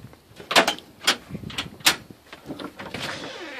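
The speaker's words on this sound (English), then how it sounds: "I'm going to step into the front door." The front door of a manufactured home opens with several sharp clicks, knocks and rattles in quick irregular succession, fairly close and moderately loud.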